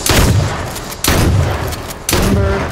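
Grenade explosions in the battle royale video game H1Z1, three loud booming blasts about a second apart, each with a rumbling tail, close and without talk.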